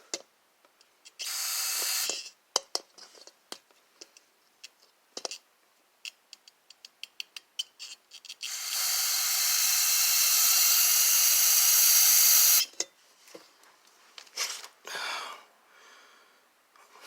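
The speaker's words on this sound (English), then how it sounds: "So here's our exhaust valves, and so I'm gonna add the brake cleaner." Can of brake cleaner sprayed onto the exhaust valves of a 2012 Mini Cooper with misfire codes. Scattered sharp clicks and short spurts lead into a long, loud, steady hiss of about four seconds, followed by more brief bursts.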